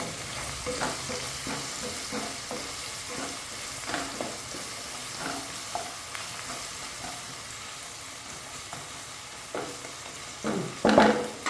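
Ginger and garlic frying in a pan until brown for a date pickle, a continuous sizzle broken by repeated scraping stirs and spoon knocks, with a louder clatter near the end.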